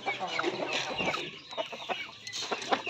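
Native chickens clucking inside a pen, a close, busy stream of overlapping clucks and short calls with no talk.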